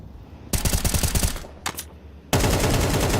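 Gunfire rattles in Counter-Strike on the Nuke map during a professional esports match, with rapid automatic bursts, a brief pause with a few single shots, then a sustained loud volley, and no voices.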